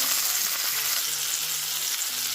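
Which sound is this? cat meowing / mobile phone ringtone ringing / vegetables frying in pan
vegetables frying in pan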